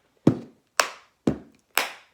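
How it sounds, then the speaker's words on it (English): Four sharp hand claps, evenly spaced about half a second apart, close and crisp, each with a quick decay into silence. "please clap your hands and sing along with me"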